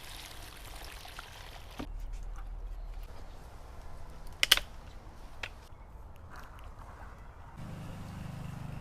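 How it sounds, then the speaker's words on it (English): Water poured into a bucket of banana peels for compost tea, a soft irregular splash and trickle heard close by, quiet and alone, with a brief clatter partway through. "So now we add water."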